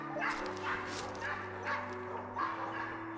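Hunting dogs on a driven hunt chase a deer, giving repeated yelping barks and whines in the middle distance, with a steady low hum underneath and some voices mixed in.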